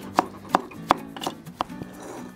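A kitchen knife chops white cabbage finely for borscht, giving five or six sharp, close cuts against a board in an uneven rhythm, with no talk.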